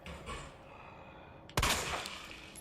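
A single sharp gunshot in the Resident Evil 2 remake demo cracks out loudly after a short stretch of low ambient noise, followed by a brief fading echo.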